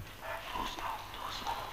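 Military working dogs of the French army from the 1960s barking aggressively in a series of loud, close yaps over a low background rumble, with no one talking.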